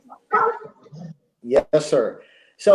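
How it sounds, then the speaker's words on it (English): A dog barks in a few sharp yips and woofs at close range, overlapping with someone speaking in a conversation. "That's the dog."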